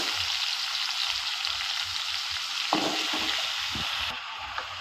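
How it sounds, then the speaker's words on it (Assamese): Taro frying in hot oil with onion in a wok, giving a continuous close sizzle with a few stirring knocks and clatters partway through, no voices. "আন এটা কেৰাহীত মই তেল দি পেলাই অকণমান পিঁয়াজ দি দিছোঁ। এইবাৰ কচুখিনি দি দিছোঁ।"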